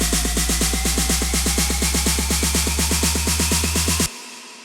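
A simple uplifter effect from a tech house remix builds as a steady wash of bright noise over fast, evenly repeating pulses for about four seconds, then cuts off abruptly.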